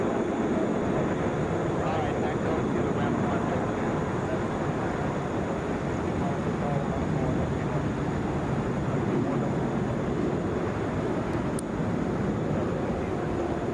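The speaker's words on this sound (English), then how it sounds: "Delta Flight 499, headed for Denver, wheels up on that Airbus A321" Delta Airbus A321 airliner climbing out on takeoff, a steady broad roar of jet engines that stays loud and even throughout, with no clear change in level.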